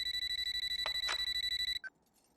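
A telephone bell rings in a rapid, steady trill at close range in a Telugu comedy film scene, then cuts off abruptly with a short final chirp as the call is picked up, leaving near silence.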